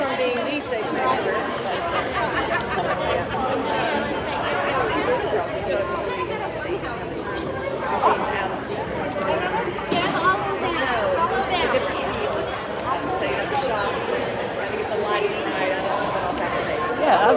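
Dense crowd chatter fills a theatre during a world premiere, many overlapping voices forming a loud, continuous babble close around.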